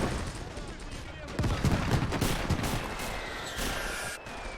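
An anti-tank gun opens fire in the World War II game Gates of Hell, during a 1941 German invasion of the Soviet Union, with dense bursts of battle gunfire and booms under a voice speaking.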